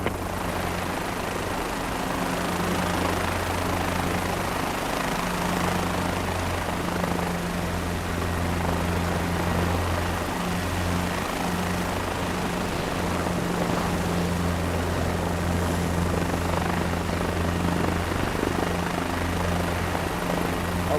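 A helicopter hovers over a helipad in Microsoft Flight Simulator 2024, its rotor and engine giving a loud, steady, continuous drone with a low throbbing hum that holds unchanged throughout.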